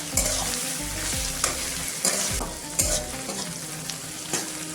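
Onion and garlic fry in a pan with a steady close sizzle, broken by several louder scraping stirs at roughly one-second intervals.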